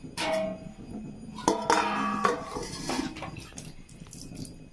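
A metal lid is set over a pot while palm-fruit bread bakes on a gas stove, giving several short clanking and scraping contacts in close succession, fairly loud and near, with no talk.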